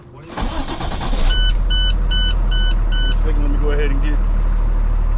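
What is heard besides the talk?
truck engine warming up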